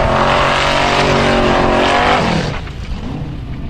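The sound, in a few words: formula offroad race cars driving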